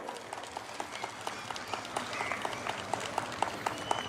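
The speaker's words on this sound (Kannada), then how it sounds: "ಒಂದು ಸಾರಿ ಜೋರಿಯಾಗಿ ಚಪ್ಪಾಳೆ ಹೊಡೆಯೋಣ" An audience at an Ananya Public School anniversary celebration claps loudly and steadily, a dense sustained round of applause with some sharper individual claps standing out near the end.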